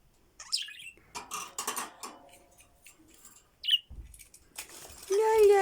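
A small bird gives a few short, sharp chirps between bursts of voices and shuffling noise close by, and a clear tweet rings out near the end.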